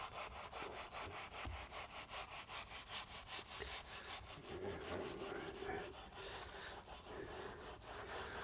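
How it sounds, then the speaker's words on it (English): Stiff-handled brush scrubbing baked-on grime from a car wheel during acidic wheel cleaner use, a steady rapid back-and-forth rasping rubbed continuously and close for the whole stretch, with no talking. "it just allows me to scrub a bit"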